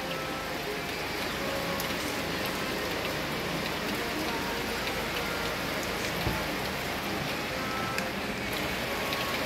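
Steady rain falling outdoors in the Philippines near a hut, a constant dense hiss of drops on surfaces with a few sharper drips, unbroken and even throughout with no voices.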